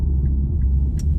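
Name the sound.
Infiniti Q50 car engine while driving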